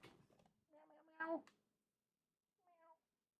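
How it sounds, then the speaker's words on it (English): A cat meows a few times up close, starting with a longer drawn-out call that rises to a loud peak, followed by a shorter, fainter meow after a brief silence. "I heard you meowing."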